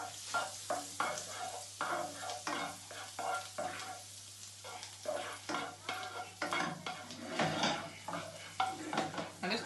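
Butter sizzles in a hot pot for a seafood boil with lobster, crab and prawns, with steady crackling and repeated stirring and scraping bursts from a utensil close by.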